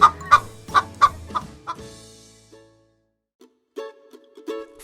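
Chicken clucking in a quick rhythmic series of sharp clucks, loud and close, fading into a few softer scattered clucks after a short pause, with no talking.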